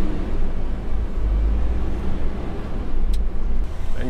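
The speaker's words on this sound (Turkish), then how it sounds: "Abi hemen vitesimi taktım. Hemen ilerliyorum." A Ford Trucks F-Line truck pulls away after being shifted into gear, giving a steady, close, low engine rumble that holds evenly for several seconds with no talking.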